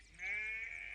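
A single sheep bleats once, close and fairly clear, in a short wavering call that lasts most of a second.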